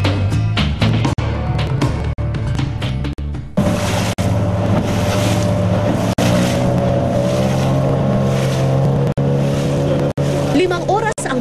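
A motorboat engine drones loudly and steadily on a river from Manaus, Brazil into the Amazon, with rushing water and wind noise throughout and brief dropouts in the sound.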